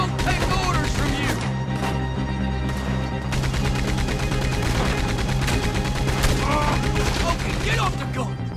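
Gunfire in Red Dead Redemption 2: dense, continuous volleys of rapid shots and loud cracks fill the whole stretch over a steady low drone, with game voices mixed in.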